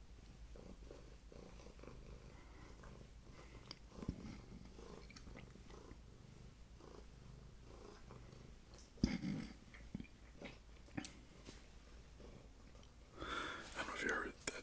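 A cat purrs softly and steadily close to the microphone, a low rumbling drone beneath quiet whispered talk, with a few louder rustles and bumps near the end.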